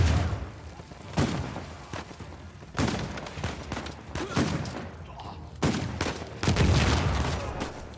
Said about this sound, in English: Double explosion.